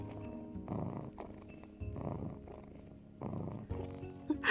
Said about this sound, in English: Oh, he's purring really loudly.